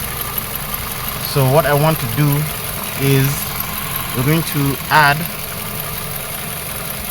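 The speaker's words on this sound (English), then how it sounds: "There's a vacuum leak on this engine, and it's pretty pronounced." A 2005 Toyota Caldina engine idles with a steady hiss from a vacuum leak running throughout, heard under someone talking.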